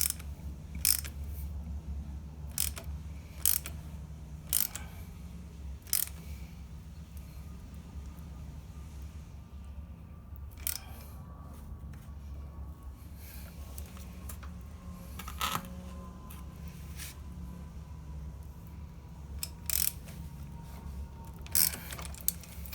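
A chain tool rivets a motorcycle chain link with a series of sharp metallic clicks and ratcheting snaps spaced irregularly over a low mechanical hum, close and fairly faint, with no voices.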